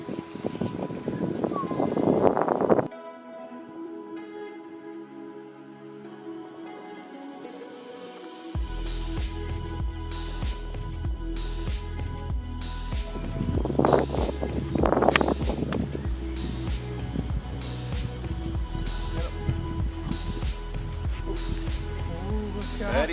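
Wind blows across an open golf course and buffets the microphone with a low, rumbling roar that drops out briefly, then returns as steady, gusty noise throughout.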